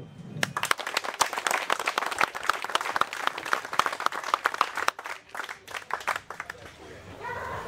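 An audience at a national breed show for Bruno and Swiss hound dogs claps steadily for several seconds, a dense, fairly close burst of applause that tapers slightly toward the end.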